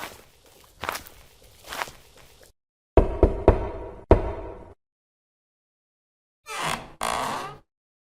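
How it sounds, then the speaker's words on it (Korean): Knocks on the wooden front gate of a rich man's house, used as a sound effect in a Korean folk tale narration: a few sharp raps alone, followed by shuffling steps and a short quiet gap. "강부자 집의 대문을 두드렸습니다"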